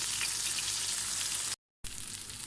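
Beef kebab frying in a pan over a low flame, a steady dense sizzle with soft crackle, close and continuous, cut off briefly by a short silence before resuming.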